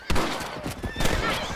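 Gunshots in Red Dead Redemption while shooting rabbits: several sharp, loud cracks spaced irregularly over a second and a half, with a horse's whinny and game ambience mixed in.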